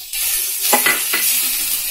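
Food sizzles steadily in a hot pan while making ginger sweets, with a few louder crackling bursts as jaggery is tipped in and stirred.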